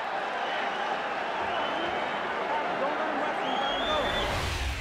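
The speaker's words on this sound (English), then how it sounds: "The bell ends round number 4, and the crowd in England loves it" An arena crowd in England roars at the bell ending a boxing round, a dense, continuous wash of cheering and applause that holds at a steady level throughout.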